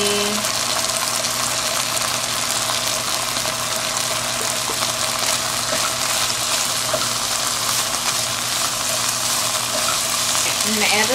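Scallion whites frying in a pan over turned-down heat, a steady, loud, even sizzle with faint stirring scrapes and no pauses throughout.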